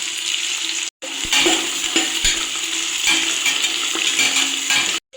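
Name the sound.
onions and masala frying in oil in a kadai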